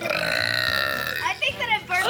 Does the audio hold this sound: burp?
yes